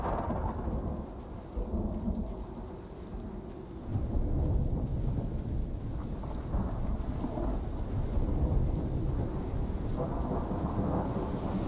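Thunder rolls in long, deep rumbles through steady rain, swelling louder partway through and staying heavy and continuous to the end.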